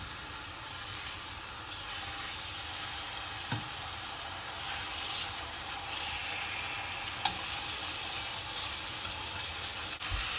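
Seasoned pork chops sizzle steadily in avocado oil in a skillet, a constant bright frying hiss with faint crackles and a few soft clinks, close and alone with no talking.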